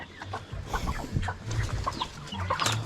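Chickens on a small backyard minifarm, soft overlapping clucks and low murmuring calls from several birds nearby, fairly quiet and continuous.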